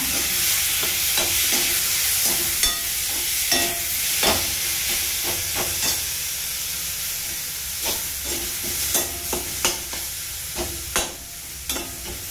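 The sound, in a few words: tomatoes sautéing in a pan on the stove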